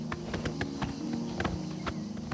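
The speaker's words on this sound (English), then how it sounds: "Come on, horse. You can ride faster than this." Horse hooves clop at a steady quick pace in the video game Oblivion Remastered as the player rides the horse Shadowmare, rhythmic close thuds over a low droning background, with no talking.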